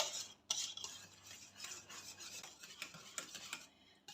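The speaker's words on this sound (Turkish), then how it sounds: "Evet böyle karıştırıyorum bütün malzemelerimin birbirine geçmesi için." Cream is stirred into a cake filling in a bowl for a Turkish Petit Beurre biscuit layer cake; a spoon scrapes and clinks steadily against the bowl in quick, even strokes, close and quiet, with no voices.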